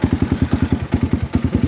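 A Honda CBR250R motorcycle engine idles close by with a fast, even timing chain rattle ticking in steady rhythm, no voices.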